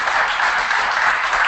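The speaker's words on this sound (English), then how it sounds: "Give a round of applause" Loud, continuous round of applause from a studio audience on a sports talk show, a dense wash of clapping filling the moment as a Hall of Fame guest is introduced.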